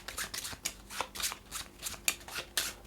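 Cards from a Horizon Zero Dawn board game being drawn and shuffled, a close, rapid series of soft papery slides and flicks that repeat about every quarter second.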